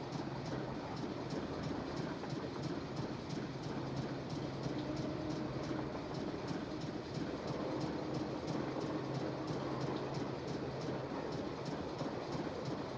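Steady rolling rumble of a train in motion inside a Nancy Drew adventure game aboard the last train to Blue Moon Canyon, with regular clickety-clack beats throughout and no voices.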